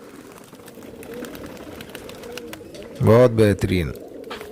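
A pigeon coos in a short rounded burst near the end, close and clear, after a stretch of softer background bird sounds; someone speaks briefly alongside.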